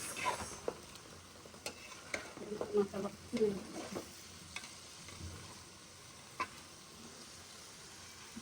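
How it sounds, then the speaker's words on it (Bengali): Tangra fish frying in curry in a home kitchen, with a spoon stirring and scraping through the pan in irregular bursts over a soft continuous sizzle, fairly quiet and close. "এই যে মাছটা এখন কষানো হচ্ছে"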